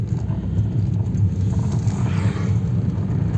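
A car engine hums steadily with a low, continuous rumble as the car drives at night on low beam, heard from inside with no talking.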